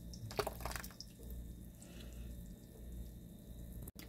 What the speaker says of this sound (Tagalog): And now, ibubuhos na po natin yung ating binlend kanina.